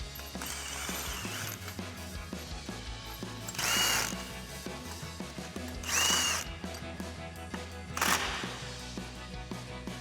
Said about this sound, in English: you're going to take a 22mm socket with an impact. You want to tighten down these 4 nuts right here